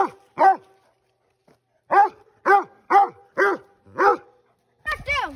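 A redtick coonhound pup barks at a raccoon in a series of sharp, separate barks with short pauses, fairly close and loud, with no talking.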